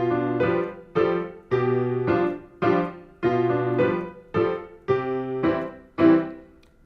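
Solo piano plays bars 5 to 8 of a simple beginner song with both hands, eight evenly spaced chords with melody notes struck in a slow, steady rhythm, clear and close with no talk.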